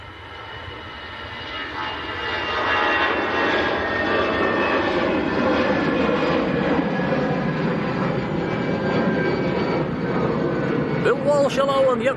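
An EasyJet airliner comes down the runway, its jet engine roar rising from a distance into a loud, steady drone with whining tones, and a voice talks briefly near the end.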